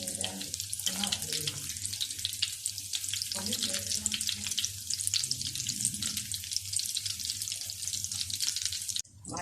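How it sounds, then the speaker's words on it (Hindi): Chicken seekh kebabs coated in egg and breadcrumbs fry over a low flame in hot ghee, giving a steady, close sizzle that runs throughout, with a soft low hum underneath. "अब मैं फ्राई करने लगी हूँ।"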